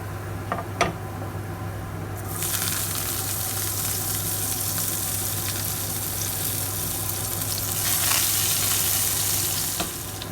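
Ingredients fry in hot oil until brown for a Hyderabadi khatti dal, a steady sizzling hiss that swells loudly after a quieter start and continues close and unbroken.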